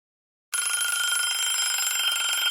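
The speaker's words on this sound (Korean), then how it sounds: "새벽 급한 전화벨이 울렸다" An urgent telephone rings at dawn, a loud continuous electronic bell that bursts in abruptly after half a second of silence and rings on steadily, unaccompanied.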